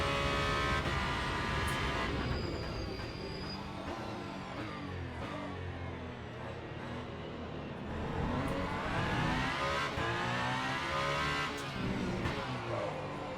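An Alpine race car from the Le Mans Ultimate racing game roars close up, its engine revving and shifting through rising and falling pitch sweeps, with a brief tire squeal, continuous and loud with no talking.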